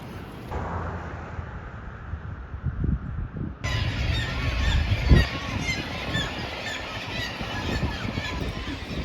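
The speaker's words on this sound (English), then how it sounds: "There are so many of these seagulls. They're so loud." A large flock of seagulls squawking and calling loudly near a campground in Homer, Alaska, with many overlapping cries that intensify partway through, layered over outdoor ambience.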